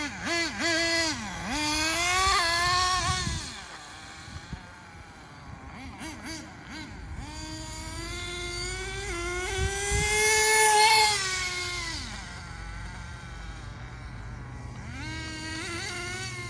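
HotBodies Tornado RC cars on a test run with Power Hobby wheels, high whining motors rising and falling in pitch as they pass and drive off, fading with distance, with a faint voice at one point.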